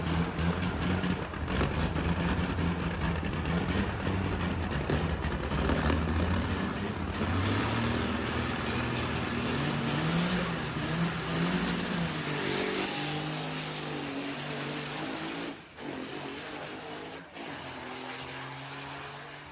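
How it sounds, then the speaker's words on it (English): A car launches from a traffic light, its engine roaring loud and close as it revs and accelerates hard through rising gear pitches, then easing off near the end. "And here at the light, Wayne told me how to launch it, and I was ready"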